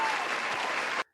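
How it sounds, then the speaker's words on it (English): A short burst of applause from a podcast audience, dense clapping at full volume for about a second before stopping abruptly. "I'm going to give him a little round of applause for that."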